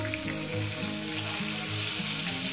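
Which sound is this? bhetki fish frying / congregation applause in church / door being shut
bhetki fish frying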